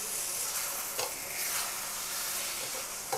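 An egg and ridge gourd curry cooks in oil on a stove, the oil rising to the surface and producing a steady, close, bubbling sizzle with faint stirring throughout. No one talks.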